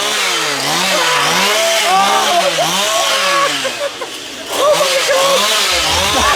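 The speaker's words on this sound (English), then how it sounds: "that chainsaw at the end, that's got to be the best ghost train I've ever been on." A chainsaw on a ghost train ride at a fair revs up and down in a wavering snarl, loud and close, with excited voices and screams mixed in.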